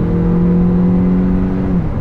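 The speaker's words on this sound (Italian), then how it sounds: "Adesso da 80 affondiamo l'acceleratore" A 2022 Kia Niro full hybrid accelerates hard from 80 km/h, its engine holding a loud, steady drone heard from inside the cabin, rising slightly in pitch before easing near the end, with no talking.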